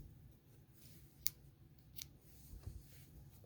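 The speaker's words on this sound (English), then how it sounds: "and cut the yarn." Scissors snip through crochet yarn in a single quick, crisp close cut, quiet and near, with small rustles of handling around it.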